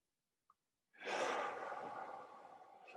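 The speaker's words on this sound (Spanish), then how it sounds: "Y hacemos una respiración profunda." After a tiny click, a person draws one long, deep breath during a guided relaxation exercise, a breathy rush close to the mic that slowly fades over about two seconds.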